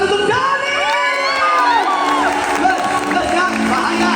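A circus crowd cheers and shouts in a continuous loud roar, with children's excited voices and whoops riding over faint applause.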